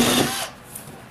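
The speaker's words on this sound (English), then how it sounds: "I used a 1/2-inch drill bit just to drill a hole right through it." A power drill with a 1/2-inch bit whirs briefly at close range boring through a plastic tub, a short high-pitched grinding burst that cuts off and leaves faint room noise.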